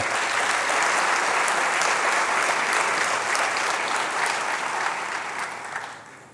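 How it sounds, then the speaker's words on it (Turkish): A large audience claps steadily and loudly at a Turkish folk song gala concert in Mersin, a dense continuous wash of applause that tapers slightly at the end. "can yürekten alkışlıyor, saygılarımı sunuyorum"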